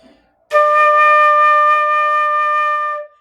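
One sustained flute D, bright and steady, held for about two and a half seconds on its own before fading out.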